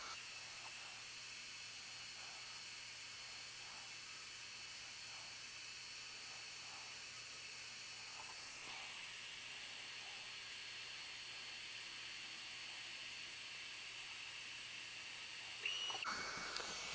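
Ortur Laser Master 3 laser cutting a knot-free piece of wood, heard as a quiet constant airy hiss and fan hum with faint periodic ticks, ending in a brief louder rustle.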